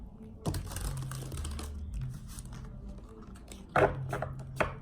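Rapid clicking and riffling of cards being shuffled, in a few bursts with brief pauses between, close up and with no talking.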